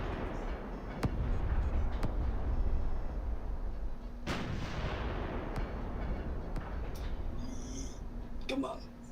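A tank cannon in a video game fires a few sharp booming shots that ring out and decay, mixed with game noise and a player talking over the action.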